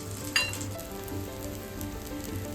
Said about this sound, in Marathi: आणि याला छान असं खरपूस असं भाजून घ्यायचं आहे